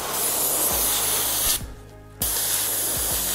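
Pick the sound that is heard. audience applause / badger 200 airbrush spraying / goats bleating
badger 200 airbrush spraying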